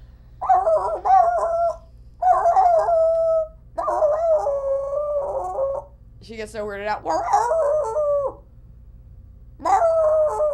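A person howls in several long, wavering calls close to the mic, imitating a dog's howl, with short pauses between them and brief talk near the end.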